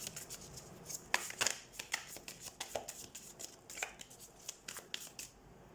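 Tarot cards being shuffled and drawn make a close, soft series of riffling slaps and sharp card flicks in an irregular rhythm, with no voice.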